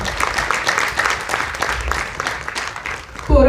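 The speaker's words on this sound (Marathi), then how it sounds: "यांच्यासाठी जोरदार टाळ्या तुम्ही वाजवायलाच पाहिजे" Audience applause at a newspaper's first anniversary ceremony, a dense spread of clapping that carries on steadily, then gives way to a louder thump near the end.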